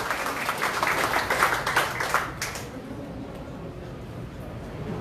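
Audience applause at a Liberty Korea Party provincial appointment ceremony, a dense burst of clapping for about two and a half seconds that then thins into softer room noise.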